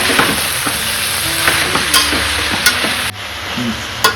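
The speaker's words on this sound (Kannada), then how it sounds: "ಈಗ ಸ್ವಲ್ಪ ಮೆಂತ್ಯ ಸೊಪ್ಪು ಹಾಕ್ತಾ ಇದ್ದೀನಿ" Fenugreek leaves are stirred into vegetable pulao sizzling in a pan, with a constant fry hiss broken by scraping strokes of the spoon and occasional clinks against the pot.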